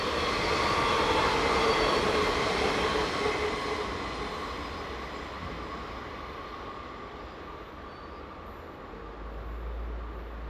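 Electric locomotive 500-019 rolls north toward Basel, a steady broad rumble and rush of wheels on rail that is loudest at first and then fades slightly, with a low drone rising near the end.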